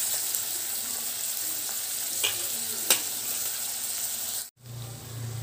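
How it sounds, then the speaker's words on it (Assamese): Onions sizzling in hot oil in a pan for broiler chicken curry, a close, continuous frying hiss with a couple of sharp clacks of the stirring spoon, then a brief drop before the sizzle resumes. "পিঁয়াজ 2টা দিছোঁ, মাংসত সদায় পিঁয়াজৰ পৰিমাণ বেছি হ'লে মাংস খাবলৈ সোৱাদ হয়।"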